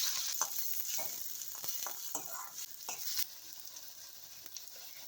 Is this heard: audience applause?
no